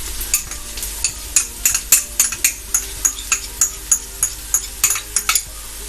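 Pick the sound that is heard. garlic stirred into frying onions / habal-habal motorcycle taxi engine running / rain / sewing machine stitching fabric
garlic stirred into frying onions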